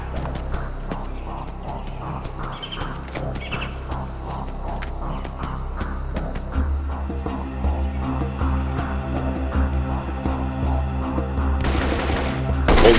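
Gunfire crackles in the sniper video game Marine Sharpshooter 2: repeated sharp shots and bursts over a steady low rumbling hum, growing louder toward the end, with no talk over them.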